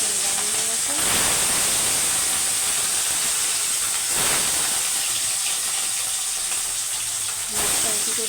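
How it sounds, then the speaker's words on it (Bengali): Katla fish frying in oil in a wok, a loud, dense hissing sizzle that swells in a few bursts before settling back to a steady roar, heard up close. "করে আমি হালকা লালচে করে ভেজে নেব মাছটা উল্টে পাল্টে আমি ভেজে নেবো"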